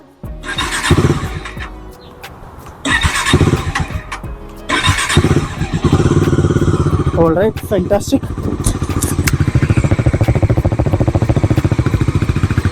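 A Bajaj Dominar 400 motorcycle engine cranks, catches and settles into a steady, loud idle, with someone speaking briefly over it.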